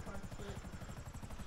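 Helicopter rotor in the video game GTA V: a rapid, steady chopping thump beating continuously, close and full, with a voice briefly audible over it.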